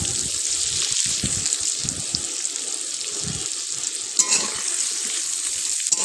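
Chopped onions frying in white oil in a wok, a dense, even sizzle heard up close with a few soft knocks from stirring, and no one speaking.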